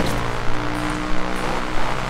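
Motorbike engine in the video game Far Cry New Dawn, a steady droning idle with rhythmic revving swells, close and loud, with game background noise.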